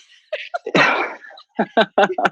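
A single loud, close sneeze followed by a brief burst of talking.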